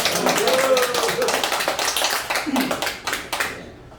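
Audience clapping during a lecture at a Sinchon culture school, a dense, fairly loud burst of claps that tapers off over a few seconds, with some voices mixed in.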